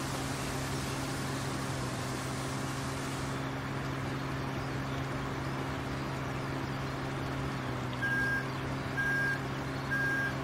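Reversing beeps from a farm vehicle in the video game Pure Farming 2018, three evenly spaced electronic beeps near the end over a steady engine hum and constant mechanical drone, with no talking.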